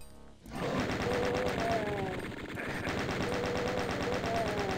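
Rapid machine gun fire from Doom II, a steady dense stream of close, loud shots running almost without pause, with faint game effects underneath.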